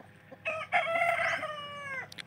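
Free-ranging native country chickens (natukodi) in a farm parent-bird area give a loud, close rooster crow with rising and falling harmonics, and some softer clucks sound around it. No one speaks.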